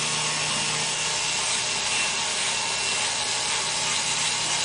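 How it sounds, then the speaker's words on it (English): Continuous close abrasive rubbing of sandpaper over a small carved wooden fish pin, a steady, even scratchy hiss with no pauses or voices. "Then just kind of sand everything smooth."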